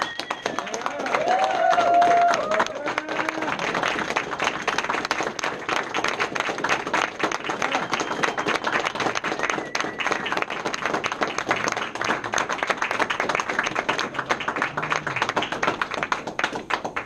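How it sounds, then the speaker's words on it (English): An audience at a business meeting gives a sustained round of applause, many hands clapping densely and evenly from start to finish, with a few voices under it at the start. "can you guys give them a big round of applause?"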